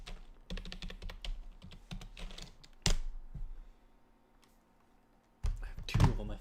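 One-handed typing on a computer keyboard comes in quick, uneven bursts of close clicks, broken by a sharp thunk and a quiet pause before a louder flurry of keystrokes resumes.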